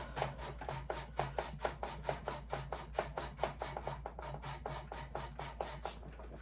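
A watch crown, FTT 211, being sanded by hand on abrasive paper, a quick steady series of about thirty rhythmic rasping strokes, close and crisp over a faint low hum.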